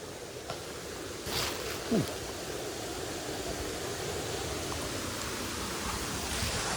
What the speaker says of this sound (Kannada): ನಿಮಗೆ ಫಾಲ್ಸ್ ಸೌಂಡ್ ಕೇಳ್ತಾ ಇದೆ ಅಂತ ಉಂಟು